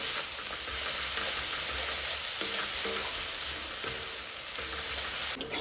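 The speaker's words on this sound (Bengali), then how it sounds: "মশলাটা ভালোভাবে এবার কষিয়ে নেব" Spice paste for a goat curry sizzles and is stirred steadily in a hot pan, a continuous close frying hiss with scraping stirs throughout and no talk.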